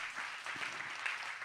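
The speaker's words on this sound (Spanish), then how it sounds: "Si va a aplaudir, aplauda como se merece" Church congregation clapping in a steady wash of applause from many hands, even and moderately loud throughout, with no speech over it.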